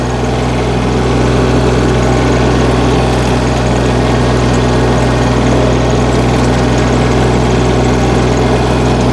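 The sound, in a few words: walk-behind tractor engine running while rotary tilling soil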